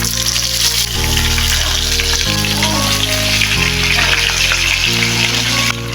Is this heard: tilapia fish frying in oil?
yes